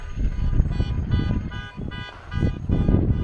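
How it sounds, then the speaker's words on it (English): A car alarm hoots in repeated rhythmic bursts far off, under a low rumbling crowd-like background. "in the distance we have the quiet hooting of somebody's car alarm"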